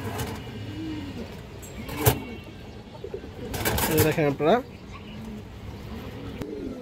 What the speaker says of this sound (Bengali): সুন্দর এক পেয়ার কালদম কবুতর আছে